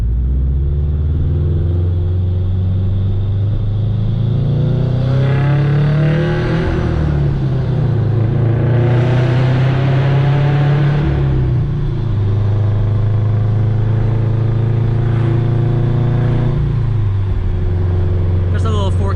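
Subaru BRZ engine revving in a tunnel at night, a loud close rumble that climbs in pitch through a brief rev, holds, then settles back to a steady drone with tunnel echo.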